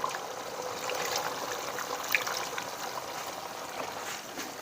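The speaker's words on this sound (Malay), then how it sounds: "nampak kuah macam dah memekat sikit, kita tambah susu 1 cawan" A cup of milk poured into simmering bolognese sauce, a soft continuous trickling and splashing of liquid, close and moderately quiet, lasting throughout.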